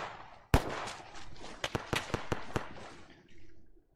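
Gunfire in an ARMA 3 military battle: one sharp, loud crack, then a quick run of about six distinct shots at irregular intervals, each with a short echoing tail.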